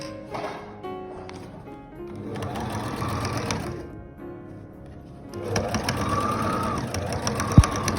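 A sewing machine stitches over dressmaking pins set horizontally across the fabric, its needle running in bursts of rapid mechanical whirring that stutter and jump as it hits the pins, with pauses between runs and a sharp click near the end.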